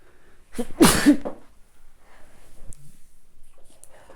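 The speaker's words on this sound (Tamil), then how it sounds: "தும்மல் வந்துச்சு" One sudden, forceful sneeze bursts out close by, followed by a quiet room with faint breathy rustles and small clicks.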